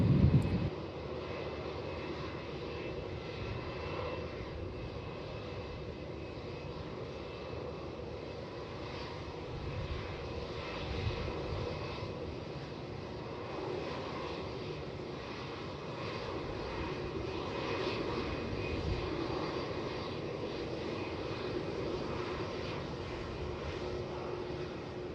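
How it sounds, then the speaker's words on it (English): A Boeing 777 landing at Melbourne Airport makes a steady, moderately distant jet roar that holds for the whole stretch without any clear build or fade. "It's a 777. So hopefully that lands on runway 16, I should say."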